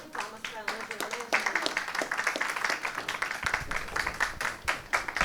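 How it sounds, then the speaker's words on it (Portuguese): Applause from an audience at a tribute ceremony honouring Professor Ângela, a steady wash of clapping that carries on with a few voices mixed in. "Podia dar uma salva de palmas para a Ângela, né?"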